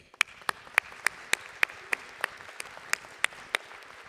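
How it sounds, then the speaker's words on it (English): A few sharp, widely spaced claps ring out over a quiet room at a winter university commencement, about a dozen distinct slaps in an uneven rhythm rather than a full ovation. "Graduates, join me, please, in offering a round of applause for those who've helped you to be here today"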